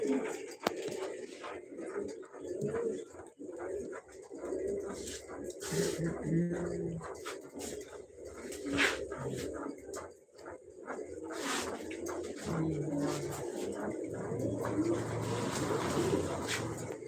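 Grizzle pigeons coo in low, rolling bursts close by, with a male grizzle among them, while someone talks over the birds almost throughout.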